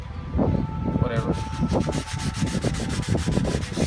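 Hand wet sanding of car bodywork with soapy water, scrubbed in an X motion, giving rhythmic repeated rasping strokes close up, with a brief spoken phrase near the start.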